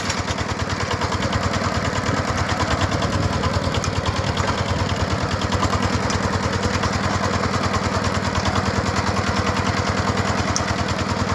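A walk-behind tractor engine pulling a potato planter runs with a steady, loud rapid chugging putter throughout, close and unbroken with no talk.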